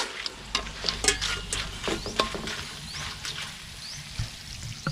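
Sliced bananas for chips sizzle and bubble in hot oil, with intermittent stirring clinks and scrapes over a steady frying hiss, close and fairly loud, no talking.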